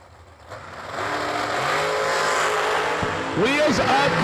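Drag racing cars launch off the line at a New Year Nationals event, with engines roaring and building in pitch while a commentator talks over the rising rev and the racers pulling away.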